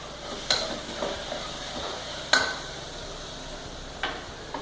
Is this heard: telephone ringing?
no